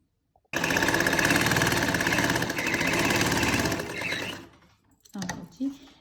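A sewing machine stitches a kurti neckline, running loud and steady for about four seconds, then slowing and stopping, followed by brief handling sounds.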